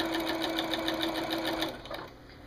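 A sewing machine stitching a quilt binding runs with a steady fast rhythmic whir and clatter of needle strokes, then slows and stops near the end; close and alone, no talk.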